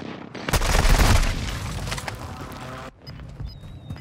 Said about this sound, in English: Airstrike on me.